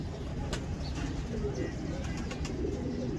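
Neel Dumba pigeons, a Faisalabad desi breed, coo softly and repeatedly over a steady low background, with a few faint sharper calls scattered through.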